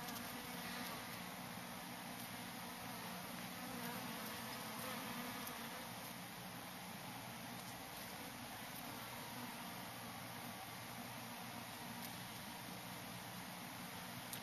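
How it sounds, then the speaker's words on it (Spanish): Bees buzz faintly and steadily around flowering broom (retama) high on a hillside, a thin continuous drone against outdoor background noise with no talking. "Maravilloso ver abejas aquí en la retama."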